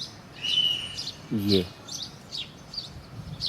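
An Asian koel calls near a curry leaf plant outdoors, its repeated whistled notes faint to moderate in short bursts, with a brief louder low sound partway through.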